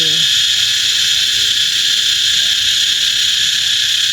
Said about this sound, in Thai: ฟังเสียงจักรจันเรไรนะคะ เสียงดีมากมากล่อมนอนทุกคืนเลย